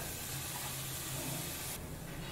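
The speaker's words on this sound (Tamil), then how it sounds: "வெங்காயம் நல்லா கலர் சேஞ்ச் ஆகிற வரைக்கும் வதக்கிக்கோங்க" Onions sautéing in a pan for potato masala rice give off a continuous soft hiss and sizzle, steady and fairly quiet, heard up close with no talking.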